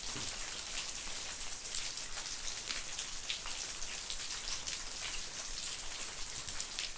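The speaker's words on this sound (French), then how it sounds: "On n'a que le bruit des gouttes d'eau qui tombent et le bruit que fait la lave sous les pieds quand on se déplace." Water drops fall continuously inside a lava tunnel of the Piton de la Fournaise on Réunion, a dense, even patter of close and distant drips with no voices.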